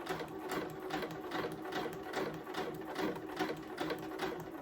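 A domestic sewing machine runs steadily, stitching slippery blazer lining fabric in a continuous close-up whir with a faint pulsing rhythm and no speech.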